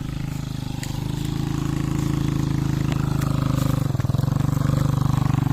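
A Yamaha Sniper motorcycle engine runs steadily nearby, a buzzy, even idle that rises a little in pitch, with no speech over it.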